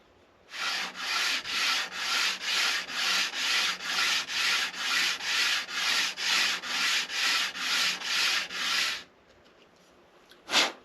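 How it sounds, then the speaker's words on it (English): Hand sanding soft wood for a guitar back plate brace, moving from 60 to 100 grit, makes about sixteen rhythmic, even rasping strokes back and forth, close and steady, then stops, with a single bump afterward. "It's very soft wood, so it does not take long to turn those 60 grit scratches into 100 grit scratches."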